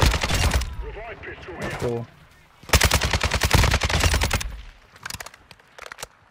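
Rapid bursts of automatic machine-gun fire crackle in a DMZ video game, coming in three loud volleys with short pauses between them, while a voice speaks briefly over the opening burst.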